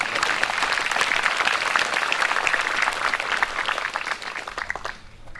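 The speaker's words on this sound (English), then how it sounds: "Let's have a nice round of applause for these 6 young ladies." Applause for six young women athletes at a school graduation and athletic awards ceremony, a steady, dense clapping from a crowd indoors that holds for several seconds, then thins out and fades.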